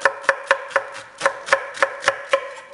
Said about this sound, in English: So let's go ahead and slice the onions this way.